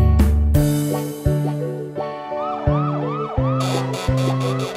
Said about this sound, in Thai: ฉันคือรถตำรวจรถตำรวจฉันกำลังจะออกไปตรวจ